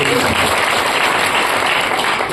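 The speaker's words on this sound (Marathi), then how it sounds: "त्यांच्याकरता जोरात टाळ्या वाजवल्या." Loud, close audience applause at a devotional gathering, a thick continuous roar of many hands clapping with faint voices mixed underneath.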